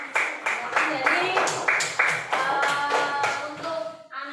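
A small group in a classroom claps together in a quick, even rhythm for about four seconds, fairly close, then the applause stops.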